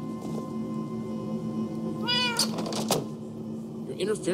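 A cat meows in the Minecraft Story Mode video game: a short rising-falling meow near the middle of the clip, followed by a fainter second call near the end, over a steady game ambience.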